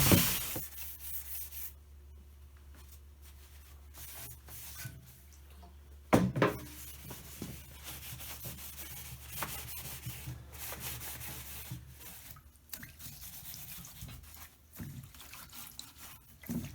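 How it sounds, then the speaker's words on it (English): A rag soaked in clean lacquer thinner wipes over a stripped Sheraton mahogany server, giving soft, quiet rubbing and swishing strokes with a few sharper scuffs and small liquid sounds, and no voices. "And I'll give it 1 or 2 wipes, as much as necessary to get it nice and clean."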